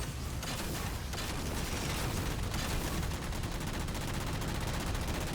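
Halo video game gunfire crackles in a dense, continuous barrage of rapid shots, loud and close, with no talk.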